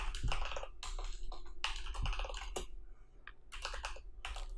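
Someone types code on a computer keyboard, a close series of irregular key clicks in quick bursts with short pauses between them and no speech.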